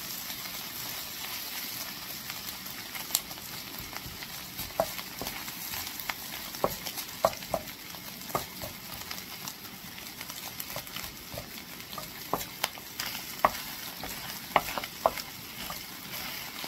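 Dirty rice fries in oil while it is stirred, a soft low sizzle broken by frequent light scrapes and clicks of the spoon against the pan.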